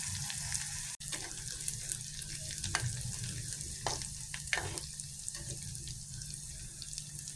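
Ingredients for a tuna fish curry, cooked without onion, sautéing in a pan, with a soft, steady sizzle and occasional stirring scrapes, faint and continuous throughout.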